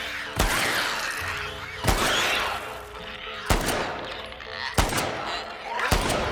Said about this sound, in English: I was shooting at the bug.